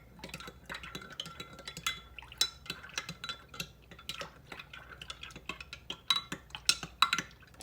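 Homemade powerwash cleaner made with Dawn dish soap being stirred in a container, a steady run of quick light clinks and taps from the utensil against the sides, close and fairly loud with no talking.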